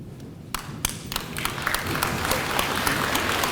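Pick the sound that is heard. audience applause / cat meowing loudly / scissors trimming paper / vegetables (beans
audience applause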